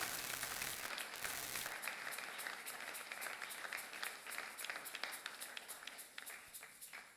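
A church congregation at a Sunday thanksgiving worship service applauding, a steady wash of many hands clapping that settles into a faster rhythmic beat, heard from a distance and fairly faint.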